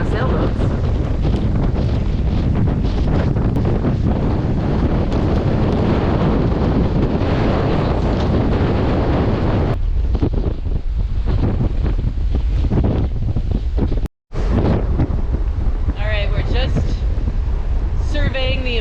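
Hurricane Ian's wind roars across Key West in a dense, loud, unbroken blast with microphone buffeting. It briefly drops out near the end, then returns with a faint voice beneath it.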